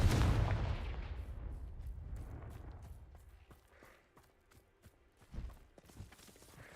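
Confringo fire spell blasts in the game Hogwarts Legacy: a loud, booming explosion that decays over several seconds, followed by sharper, fainter impacts and thuds spaced irregularly, no talking.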